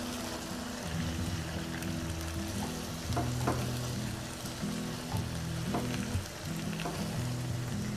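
Swiss chard and beans being stirred in a pan, a steady sizzle with scraping utensil strokes and a few sharper clicks, close by with no talk.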